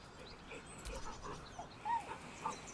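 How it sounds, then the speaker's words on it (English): A dog in Baldur's Gate 3 whimpers nervously beside a corpse, giving soft, high, wavering whines and short yips at low volume over faint ambient game sound. "The dog whimpers nervously, as if to urge you on."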